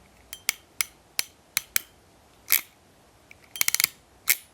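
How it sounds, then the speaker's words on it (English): A Klein RJ45 crimping tool working its ratchet, sharp close mechanical clicks in small spaced groups and a quick rattling burst of several clicks, with a couple of softer snaps between, in a quiet room. "You've got a lovely action on this with the clicking, the sort of ratcheting function."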